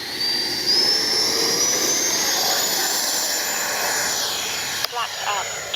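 A Freewing Zeus 6S 90mm electric ducted-fan RC jet roars and whines steadily on its takeoff run, its pitch rising as it climbs away, with a person talking nearby over the loud engine noise.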